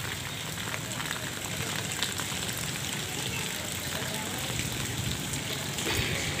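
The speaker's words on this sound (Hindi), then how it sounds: "बारिश अभी हो रही है।" Steady hiss of rain pouring onto a waterlogged residential lane, a dense, even patter lasting throughout while people chat nearby.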